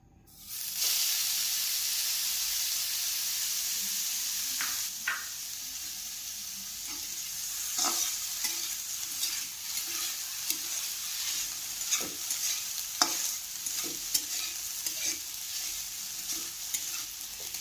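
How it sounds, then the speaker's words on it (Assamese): Grated coconut hisses and sizzles as it hits a hot kadai, followed by a steady fry broken by repeated scraping stirs of a spatula against the pan. "এয়া মোৰ কেৰাহী গৰম হৈছে, মই ইয়াত নাৰিকলখিনি ভাজি ল'ম।"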